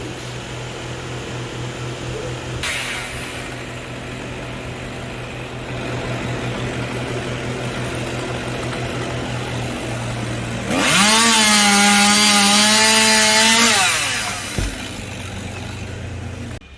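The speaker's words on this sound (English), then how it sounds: "And into the chipper shredder it goes." A chipper shredder runs with a steady, loud engine drone while tree branches are fed in. Near the end it rises into a strained, labouring roar for a few seconds as wood is chipped, then drops back to its idle hum.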